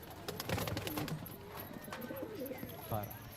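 Soft cooing of pigeons near and around at a pigeon loft, low throaty calls repeating among rustling and clatter, with people talking in the background.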